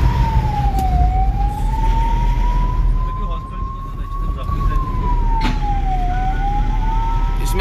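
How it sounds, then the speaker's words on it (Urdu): An ambulance siren wails continuously in a slow rising and falling sweep at an accident scene involving a Maruti car near Chapnari, Doda, with loud road and crowd noise underneath throughout. "ہم ایمبولینس لے کر یہاں پر آئے ہوئے ہیں"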